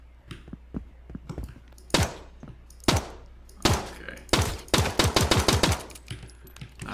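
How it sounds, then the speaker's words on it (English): Gunshots and ricocheting bullets in the video game Transience: sharp, isolated cracks at first, then a quick rattling burst of several shots close together, loud and near, with no talk. "Bullets ricochet."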